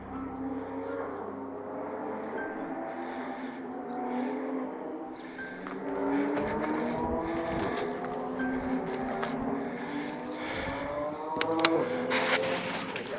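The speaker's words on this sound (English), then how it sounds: "You can hear the cars racing through the canyon." Cars race through a desert canyon, their engines droning and rising in pitch as they pass in the distance, with wind in the background on a hiking trail.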